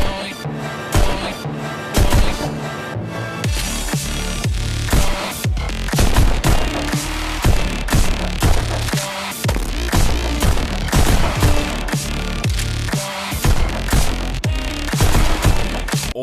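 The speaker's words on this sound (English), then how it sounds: "a rhythm-based shooter where you effectively use your gunfire as the base for the music track" In the VR rhythm shooter game Pistol Whip, rapid rhythmic gunfire blasts land on the beat over a dense, thumping electronic music track, loud and continuous throughout.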